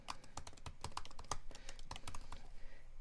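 A computer keyboard typed on to enter a news article title, giving rapid, close clicking keystrokes in an uneven run that trails off near the end, with no voice.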